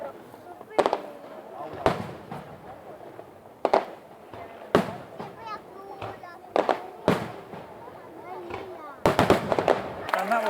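Fireworks bang repeatedly at irregular intervals, sharp cracks and booms from moderately far off, with crowd chatter and children's voices underneath.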